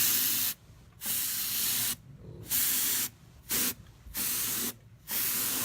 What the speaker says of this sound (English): Dalen wants to try the compressed air.